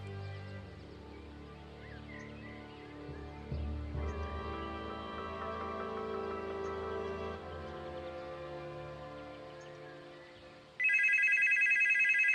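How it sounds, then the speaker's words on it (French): A telephone ringing indoors: a steady electronic ring tone entering near the end, loud and clear over a quiet background of low music. "Tenez, ça sonne. T'as qu'à répondre."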